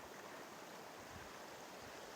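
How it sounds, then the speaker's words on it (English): A stream flowing near a forest hiking trail among moss and wildflowers, a steady faint rushing and gurgling with no break and no talk. "I hear water. Yeah, there's water."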